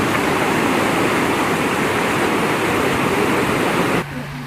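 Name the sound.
mountain stream flowing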